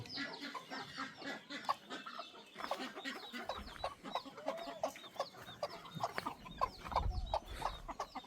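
Tiger breed chickens cluck and call in a village yard, a steady run of short, fairly close clucks across the whole stretch with some busy background noise.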